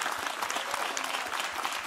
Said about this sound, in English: Clap for the Lord Jesus like you mean it.